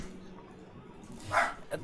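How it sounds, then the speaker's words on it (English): A single sharp dog bark rings out, followed by a quieter second yelp, close by against a quiet room. "Oh, Arlen, that's just my dog."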